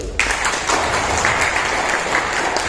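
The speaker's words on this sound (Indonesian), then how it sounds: "Tepuk tangan untuk beliau." Steady, loud applause from an audience at a regional youth organisation congress in Tegal, Central Java, starting abruptly after a brief pause and continuing as a dense wash of clapping.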